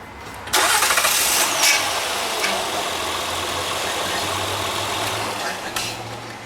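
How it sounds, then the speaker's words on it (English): A Honda Odyssey engine cranks and catches, then settles into a steady idle that runs for several seconds, loud and close, with a brief louder burst near the end. "Start the engine and only run it for maybe 2 to 3 seconds at most."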